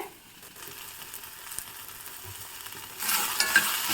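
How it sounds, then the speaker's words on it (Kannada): Spring onion fries in a pan as ground masala goes in, giving a low sizzle and stirring that swells into a louder hiss near the end, close by and free of speech. "ಚೆನ್ನಾಗಿ ಫ್ರೈ ಆಗಿರೋ ಸ್ಪ್ರಿಂಗ್ ಆನಿಯನ್ಗೆ ರುಬ್ಬಿಟ್ಕೊಂಡಿರೋ ಮಸಾಲವನ್ನು ಹಾಕ್ತಾಯಿದ್ದೀನಿ"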